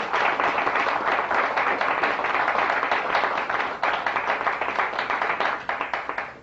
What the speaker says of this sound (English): give a great round of applause to all of the names that I have just mentioned